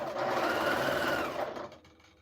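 A sewing machine runs fast and steady, stitching sashing strips onto a quilt, loud and close, then slows and trails off near the end.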